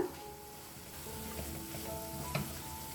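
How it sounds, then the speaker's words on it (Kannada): Roasted chillies stirred into masala in a pan give a steady close sizzle and frying hiss, with soft scraping stirs and one brief clink of the spoon against the pan. "ಹುರ್ಕೊಂಡು ಇಟ್ಕೊಂಡಿದ್ವಲ್ಲ ಮೆಣಸಿನ್ಕಾಯಿನ, ಅದನ್ನು ಹಾಕ್ಕೊಂಡು ಇದನ್ನೆಲ್ಲ ಇವಾಗ ಮಿಕ್ಸ್ ಮಾಡ್ಕೊಳ್ಳೋಣ"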